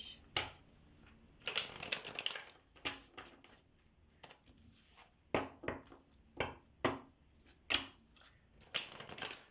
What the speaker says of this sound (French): je vais tirer 4 cartes de l'oracle